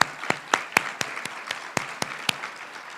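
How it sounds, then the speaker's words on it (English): Applause for a remote speaker at a sustainability summit, with sharp individual claps standing out over a softer spread of hand clapping, sounding like a modest audience. "Let's give Dana another round of applause."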